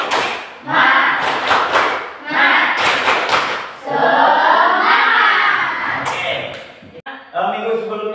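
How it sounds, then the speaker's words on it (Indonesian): A school class claps a rhythmic spirit clap in repeated sharp bursts, with children's voices chanting and shouting along between and over the claps. "Kita tepuk semangat terlebih dahulu."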